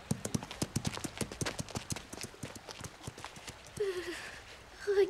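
In a cartoon, a horse's hooves clip-clop in a brisk, even walking rhythm at close range, and a voice speaks briefly near the end.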